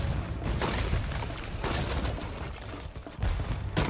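Rapid gunfire and bursts from Spyro 3 Year of the Dragon in the Reignited Trilogy, a dense, loud, continuous barrage of shots and impacts filling the whole stretch with only brief dips.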